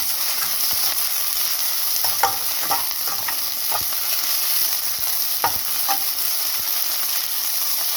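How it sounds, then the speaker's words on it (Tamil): Mint leaves frying in a pan for biryani, a steady sizzle and hiss with light scraping strokes of a stirring spoon scattered through it, close and continuous. "புதினா, இது நல்லா வறுக்கணும், வாசனை வரணும்"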